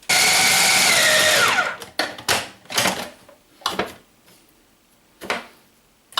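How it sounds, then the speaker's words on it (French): Electric meat grinder mincing coarsely chopped pork breast and shoulder for a tarragon poultry terrine: a loud steady whirring motor run for almost two seconds, then several short grinding bursts with pauses between them, close and alone without talk. "Maintenant, je vais leur donner un petit tour de hachoir, juste pour casser les fibres."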